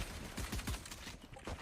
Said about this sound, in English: there's just continuous gunshots over here